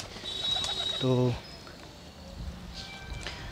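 Soft pigeon coos, a short low throaty burst, sound close by beneath a brief spoken word and some faint background noise.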